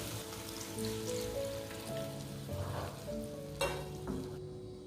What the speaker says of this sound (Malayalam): ഈ സമയത്ത് നമുക്ക് ഈ പുളി വെള്ളവും കൂടെ ചേർത്ത് കൊടുക്കാം.